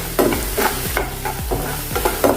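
Cumin seeds roasting in a pan with other ingredients for a semolina breakfast dish, a steady close sizzle broken by rhythmic scraping strokes of a spatula, roughly one every half second.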